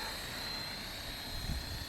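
Steady whirring rotor and motor drone of a Blade Fusion 360 3S remote-controlled helicopter flying low, continuous and fairly even with a slight surge near the end.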